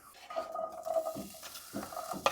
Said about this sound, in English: So let's just throw these taters in there.